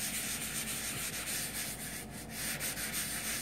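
Steady, continuous scrubbing of baked-on residue off copper-bottom cookware, a close, even abrasive rubbing with slight rhythmic strokes and no speech.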